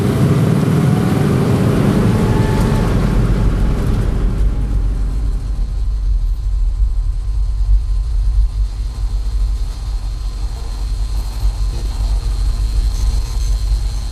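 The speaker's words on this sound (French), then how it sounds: "il y a une voiture." A car passes by, a broad engine and road rush that is loud at first, then fades over several seconds into a low steady rumble and hum.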